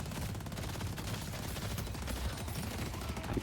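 Continuous rattling gunfire in the shooter game Deadlock, a dense steady barrage of shots at moderate, somewhat distant loudness with no voices over it.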